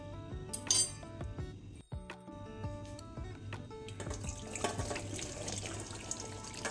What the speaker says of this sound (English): Okay, we have strained the hot water.